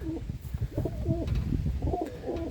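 Pigeons coo repeatedly at a large dovecote, several soft rolling calls close by in a loose rhythm over a low outdoor background, with no talk.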